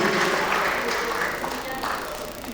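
An audience at a UNESCO hydrological programme anniversary ceremony applauds the committee members with steady, fairly loud, dense clapping throughout.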